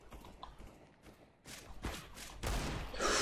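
Desert Eagle pistol fire in the video game CS:GO: a few sharp, loud shot bursts with the biggest near the end, separated by quieter game ambience.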